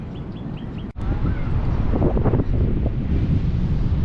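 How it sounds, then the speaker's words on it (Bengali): Sea surf at Bakkhali beach beside a casuarina forest makes a continuous broad roar, heavily buffeted by wind on the microphone, with a brief dip near the start. "এই ঝাউবনের পাশ দিয়ে সমুদ্রকে দেখুন কত সুন্দর লাগছে, গর্জন শোনা যাচ্ছে"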